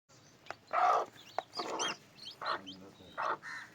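Newly hatched chicks peep and a hen clucks close by in short bursts, with about five separate calls over a few seconds and no talk.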